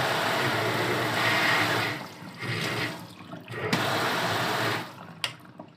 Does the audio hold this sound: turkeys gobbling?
no